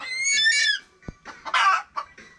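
Chickens on a farm, including a brooding hen, cluck and squawk close by in a few short bursts, one sharp tap between them.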